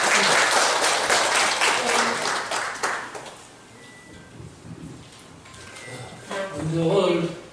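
Audience at an annual general meeting of a Changnyeong Jo clan association applauding the outgoing president, several seconds of dense clapping that thins out, followed by a voice speaking.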